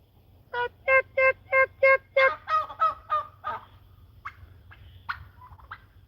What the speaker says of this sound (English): just sitting out here playing with these turkeys.